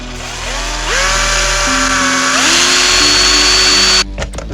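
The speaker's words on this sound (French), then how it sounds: "tu viens me percer un trou de 4 mm sur le côté de la boîte en haut à droite" A cordless drill driver bores a 4 mm hole in the side of a box, its motor whining steadily and stepping up in pitch as it bites, then cutting off with a few short rattles at the end.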